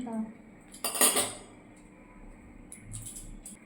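A plate and metal cutlery handled in a home kitchen, a cluster of bright clinks and scrapes near the middle, followed by a few lighter taps against quiet room noise.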